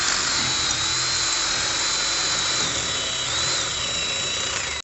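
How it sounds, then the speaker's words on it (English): A power drill runs steadily with a high, continuous whine, boring through a fitting to take synthetic winch rope on a CFMOTO ZFORCE 800, loud and close without pause. "I think we drilled all the way through."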